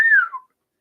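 A single short whistle from a person, a falling tone that fades within half a second, clear and close before silence.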